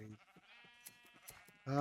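Sheep bleating in Minecraft: Sevtech Ages, a few quiet, wavering bleats in a row with a louder bleat at the end, heard alone.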